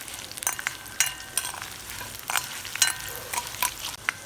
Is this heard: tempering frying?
yes